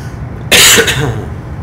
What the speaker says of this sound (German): Ja, Husten ist nervig